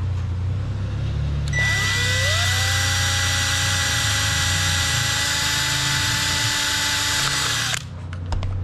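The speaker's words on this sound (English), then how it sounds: "drill a hole through there" A power drill spins up and bores a hole through a part for a model egg-carrying rocket, whining steadily and loudly at close range for several seconds before stopping.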